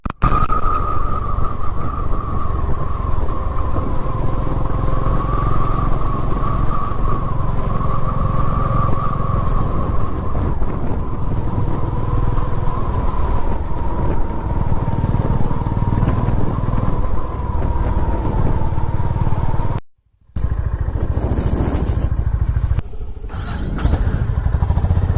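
A motorcycle rides off-road on the hills of Baba Budangiri near Chikkamagaluru, its engine droning steadily and close for about twenty seconds before a sudden cutout, followed by rougher, quieter rumbling.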